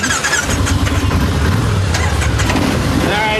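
Motorcycle engines starting and running together in a rumbling, steady low drone that fills the clip.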